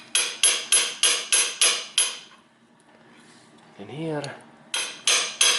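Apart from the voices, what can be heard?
hammering a socket onto a gearbox drive axle seal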